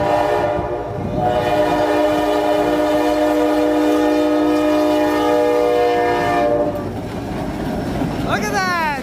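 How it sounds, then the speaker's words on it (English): A train horn blasts loud and sustained over the rumble of passing rail cars, fading out near the end as a brief squeal follows. "Enjoy the trains, enjoy the intro."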